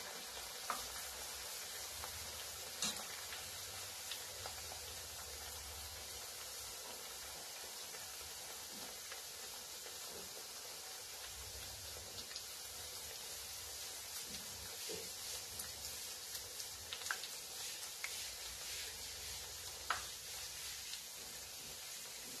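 Puris deep-fry in hot oil in a kadhai with a steady, soft sizzle and faint crackle, occasional small pops and stirring scrapes, continuous and quiet with no talking.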